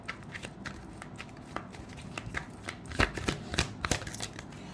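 Tarot cards being shuffled by hand, a run of crisp riffling snaps and soft slides coming close and clear, growing busier and louder toward the end.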